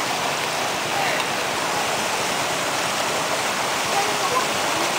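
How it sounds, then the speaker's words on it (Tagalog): River water flows steadily through a stream channel cleared of fallen trees and bamboo, a constant broadband rushing wash at moderate level with no breaks throughout. "para tuloy-tuloy na ang daloy ng tubig dito sa ilog na to"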